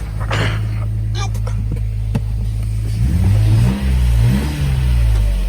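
A Mercedes W201 190 with a converted M104 engine idles loudly up close, its steady low hum shifting and dipping as it is put into drive, with voices speaking over it.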